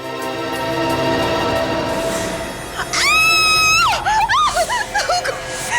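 A loud, shrill scream rings out for about a second in a Hindi CID television crime drama, followed by sharp vocal fragments against steady background music.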